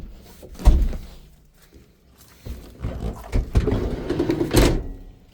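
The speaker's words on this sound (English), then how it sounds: "Unlock the door here." A few heavy thunks and mechanical clunks of a mini truck's door unlocking and swinging open, close by with some rustling between.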